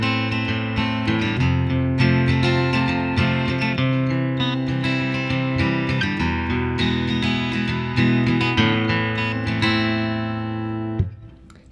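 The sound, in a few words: chord progression with the minor 3 chord changed to major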